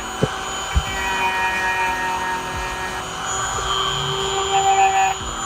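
Power sanding along the cut edge of a carbon fiber chassis for a WLtoys 284010 RC car, a steady whirring grind with slight pitch shifts, close and loud, broken by a couple of sharp knocks near the start.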